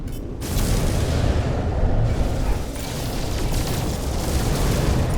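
Rockets fire and explode in a pirate-themed shooter game, a dense, continuous roar of booming blasts and rumbling detonations filling the whole stretch with no quiet gaps.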